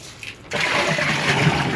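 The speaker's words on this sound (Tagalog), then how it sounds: "Maglagay ng tubig sa washing machine" After a brief quiet moment, water suddenly gushes in with a loud, steady rushing splash, like a machine drum filling from a hose.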